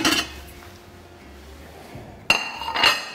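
A plate picked up and set down in a kitchen while preparing bonito: a sharp ceramic clink at the start, a quiet pause, then another clinking set-down near the end, close and alone.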